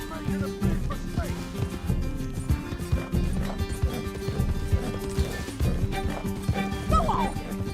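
Horse in the Red Dead Redemption 2 video game, hooves clip-clopping amid busy game noise and music, with occasional whinnies and talk over the top throughout.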